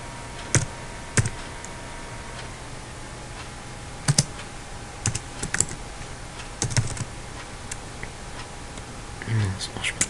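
Scattered keystrokes on a computer keyboard in short irregular bursts with pauses between, fairly close but quiet, over a steady low hum, with faint murmuring voices at times.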